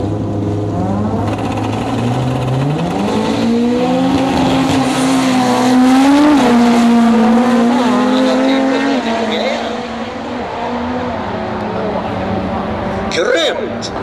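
Toyota Corolla race car at a race track in Tullinge, its engine loud and close as the pitch climbs, holds and falls through gear changes, with a brief tire squeal near the end.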